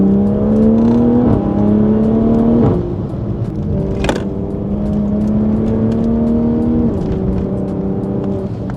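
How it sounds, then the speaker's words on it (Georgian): A Toyota Supra Mk5 with a B58 engine, still cold, revs in sport mode with a loud, smooth rising and falling drone. A sharp crack punctuates the middle, and the engine note settles and climbs again, with no one speaking. "სპორტ რეჟიმში მაინც გაჩვენებთ როგორი ხმა აქვს"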